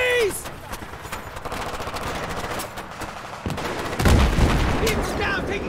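Rapid gunfire and bursts of automatic weapons in the video game Battlefield 3, with sharp cracks scattered through the clip and a heavy boom near the end, while soldiers' voices shout over the fighting.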